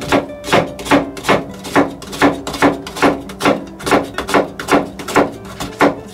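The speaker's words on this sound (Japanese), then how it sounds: "玉ねぎをみじん切りにしていくわけですよ" A kitchen knife mincing an onion on a cutting board, a fast steady run of crisp chops at roughly three per second that carry on for the whole stretch, close and clear with nobody talking.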